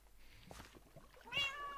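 A cat meows in a farm video game, one short rising meow near the end after faint soft shuffling sounds.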